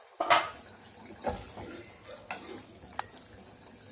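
The metal lid comes off a pot of karuvaatu kuzhambu, a dried fish curry, in a sharp clank. A few lighter metallic taps and clinks follow over a quiet background.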